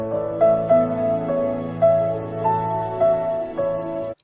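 A film theme played back as a recording, a soft, gentle melody of sustained single notes over a steady chordal accompaniment, moderately loud and without any voices.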